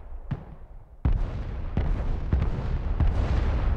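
Counter-battery artillery fire in the game Broken Arrow: a sharp distant boom, then a heavier blast, followed by several more rumbling impacts over a continuous low battlefield roar.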